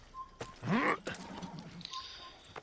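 A horse in the Assassin's Creed video game gives a loud, brief whinny, with hoof and gear clatter and other game effects around it and a voice briefly in the mix.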